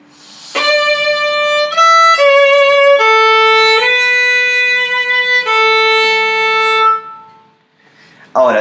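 A violin plays a simple beginner melody exercise of sustained bowed notes in a steady sequence, each tone clear with rich harmonics, close and fairly loud, alone without talk, then stopping with a brief noise at the end.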